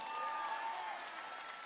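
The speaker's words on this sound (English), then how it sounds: "Let's give a round of applause for the staff here tonight." Audience at a high school graduation ceremony applauds the staff, a brief, moderately faint wash of clapping that fades slightly toward the end, with a few faint voices or tones beneath.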